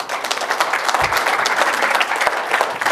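Loud, steady applause from an audience welcoming an invited speaker at a university talk on the governor election in the State of Mexico, dense clapping filling the whole moment without pause.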